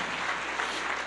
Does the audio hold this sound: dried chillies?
no